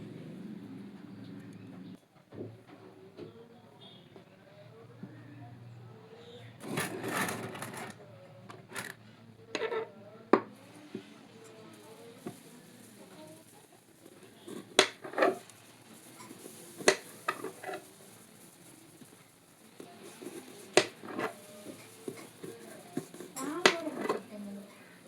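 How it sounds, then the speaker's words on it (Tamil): A knife slices bitter gourd into rounds, making scattered sharp taps and clicks on a cutting surface, with a person talking over most of it. "நல்லா நறுக்கிட்டு இருக்கேன் ரவுண்ட் ரவுண்டாக"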